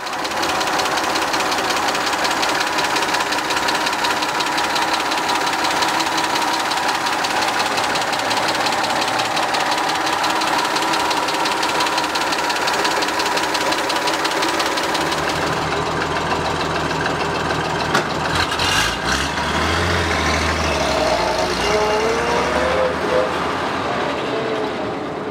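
A 1936 Chevrolet sedan street rod engine running loudly and steadily close by, a rough continuous drone that shifts near the end as revs change.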